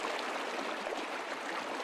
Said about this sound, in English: I'm at Ward Creek on the west shore of Lake Tahoe.